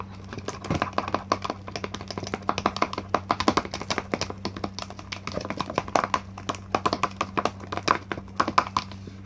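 Toothpaste slime being mixed with borax water, heard as close, irregular sticky taps and squishes repeating steadily, with a low hum running underneath.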